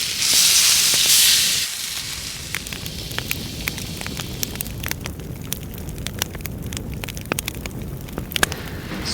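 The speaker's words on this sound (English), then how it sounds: "the best way to cook a steak on one of these old stoves is directly on the cooktop" Steak laid directly on the cooktop of an old stove gives a loud burst of hissing sizzle at first, then settles into a steady crackle with scattered sharp pops and ticks.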